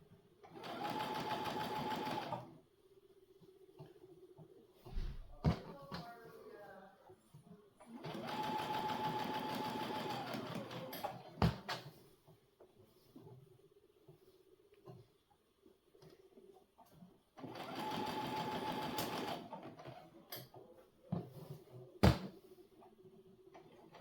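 A sewing machine stitches a Zorro cosplay duster in three steady runs of rapid mechanical whirring, each a few seconds long, with quiet pauses and light handling clicks and taps in between.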